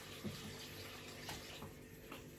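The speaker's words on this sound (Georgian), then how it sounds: "ახლა რა გვიჭავს აგეთ კრანებზე მოდის წყალი." Water runs from a tap in a steady, faint splashing stream, unbroken for the whole moment with small bubbling surges.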